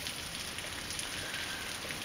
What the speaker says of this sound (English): I've never seen this much rain in my backyard